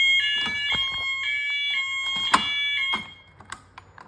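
A fire alarm rings from a pull station that has just been pulled down, its steady tonal horn sounding close and loud for about three seconds before cutting off, with a few clicks after.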